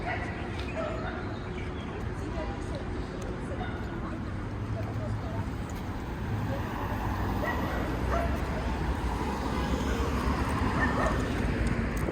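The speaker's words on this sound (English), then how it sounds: "Those dogs are still barking at this little girl." Several dogs bark and yip somewhere along a street in the Polanco district, heard through steady, dense outdoor city noise with no talking.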